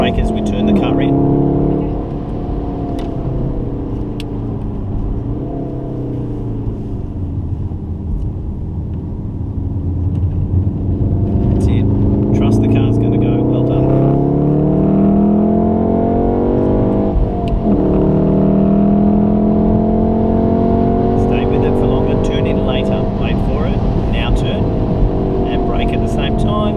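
A VW Golf R laps the Wakefield race track, its engine droning and rising through the gears as it accelerates out of turns, under steady talk from people inside the car.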